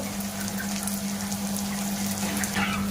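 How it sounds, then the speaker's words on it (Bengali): Raw mango jalebi deep-fries in hot oil with a continuous soft bubbling hiss and a steady low hum underneath, close and without speech. "তো এইভাবে বাদ বাকিগুলো সব ভাজা করে নেব"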